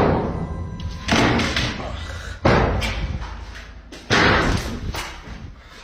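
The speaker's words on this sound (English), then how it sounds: "Oh, there goes the door." Heavy thuds like a door slamming shut several times in a spooky setting, loud and close, with voices murmuring around them.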